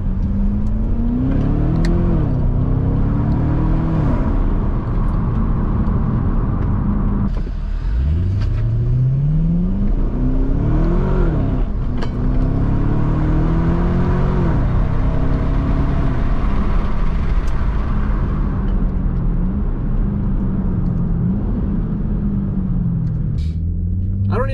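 Chevrolet Camaro engine and exhaust, heard from the cabin as it revs and accelerates through repeated rising gear pulls with a deep rumbling drone, loud and continuous with shifts between pulls.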